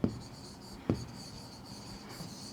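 Chalk or a marker scrapes on a classroom board during a chemistry lesson. Two short, faint strokes come about a second apart, then a quiet pause.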